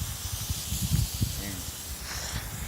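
Water hose spraying down a Burger Motorsports intake from the inside out after a cleaning-solution soak, a steady close hiss running throughout, with low splashing rumble and spatter underneath.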